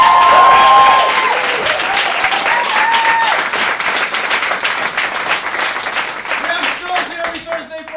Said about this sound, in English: Give a big round of applause for our crew,